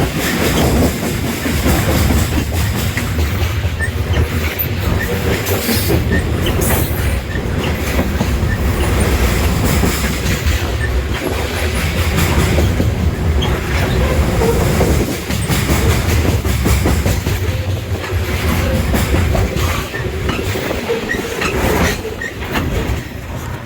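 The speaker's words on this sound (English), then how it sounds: "It's a pretty long train." A long train rolls past close by, a loud continuous rumble with rhythmic clacking of wheels over rail joints and occasional metallic squeal.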